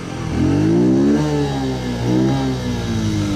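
A motorcycle engine revs up and down in rising, falling sweeps, loud and close, the sound coming mostly from the airbox rather than the exhaust, with no talking.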